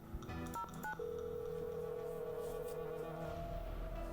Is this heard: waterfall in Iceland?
no